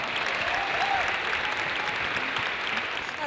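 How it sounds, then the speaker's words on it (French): An audience at an awards ceremony applauds warmly, a steady dense wash of clapping with faint voices mixed in. "je voudrais qu'on applaudisse et qu'on accueille chaleureusement l'équipe d'Air Emploi"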